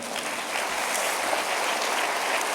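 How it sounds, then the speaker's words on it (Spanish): A church congregation applauds during a Spanish-language sermon, a steady wash of many hands clapping close and loud, with no speech over it. "¿Cuántos le dan un aplauso al Señor?"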